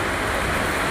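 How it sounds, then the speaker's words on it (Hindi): Steady heavy rain falling outdoors near the sea, a dense continuous hiss with no gaps or distinct drops and no voices. "कितनी कमाल की बारिश हो रही है ना, बहुत ही खूबसूरत।"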